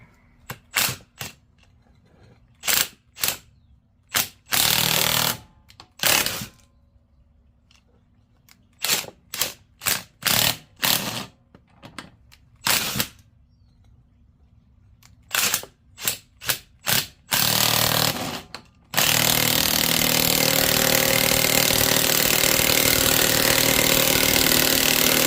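Power drill working loose the front shock bolts on a lifted 4x4 Chevy Astro van, firing in repeated short loud ratcheting bursts with pauses, then one long sustained whine at the end.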